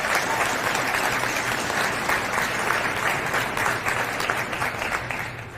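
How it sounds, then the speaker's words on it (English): A crowd at a fire station grand opening claps for retired Chief Ray Flowers, honoring his service with sustained, even applause from many people that holds steady and tapers slightly toward the end. "Let's give him another round of applause for his dedicated service."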